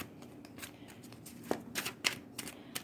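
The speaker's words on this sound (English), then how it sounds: "I would like to shuffle more on the camera" Soft riffling and flicking of tarot cards being shuffled, quiet and close, with a few sharper slaps as cards tap together.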